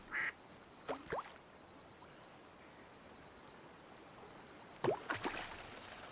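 A duck quacks in a fishing video game, two short bursts of quacking several seconds apart over a steady rushing of flowing water.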